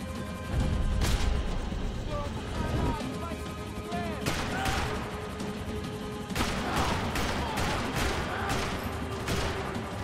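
Gunfire rattles through an action scene in the video game Max Payne 3, with repeated shots and bursts over a dense, loud background of engine noise and shouting voices.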